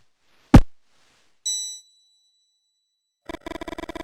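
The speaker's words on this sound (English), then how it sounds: "Suddenly the bell rings." A bell in the video game Mothmen 1966 rings out clear: a sharp clang, then a sustained ding that fades, followed by a rapid, loud burst of repeated metallic strikes near the end.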